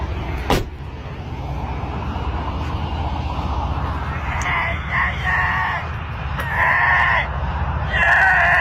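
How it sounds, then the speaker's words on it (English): A weird screeching sound in a forest: repeated harsh, high-pitched screeches in bursts over the back half, amid steady low rumbling background noise, moderately loud and fairly distant. "stopped because he heard a weird screeching sound"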